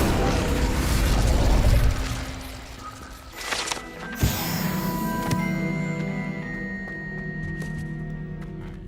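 A fire spell cast in Hogwarts Legacy, a sudden whooshing burst with a sharp pop partway through, over layered game music and magical effects that ring on and fade.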